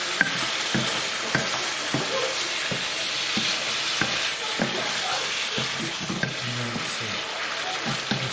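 Vegetables fry and sizzle in a pan for a lamb and chicken balti, with a steady loud hiss throughout and regular scraping taps as a utensil stirs them, no voices.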